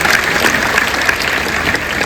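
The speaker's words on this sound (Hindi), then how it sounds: "एक बार जोरदार तालियां हो जाए उन सभी के लिए।" Loud, sustained applause from a large audience at a Meri Maati Mera Desh celebration event, a dense, even roar of clapping heard alone throughout.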